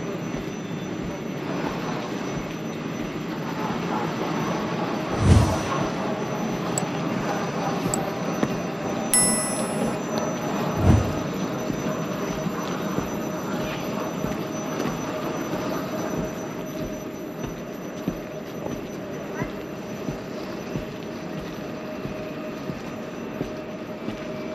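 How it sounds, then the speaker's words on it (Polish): A passenger train bound for Kielce in Poland rumbles steadily along the rails, with a continuous broad roar, a faint wheel squeal and two brief louder knocks, and no one speaking. "Pociąg jedzie do Kielc."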